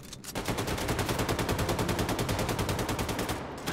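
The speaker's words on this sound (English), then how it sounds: "I'm only firing one assault rifle" Sustained automatic assault rifle fire in the Wolfenstein 2 shooter, a rapid even stream of loud shots starting abruptly and running nearly four seconds before cutting off.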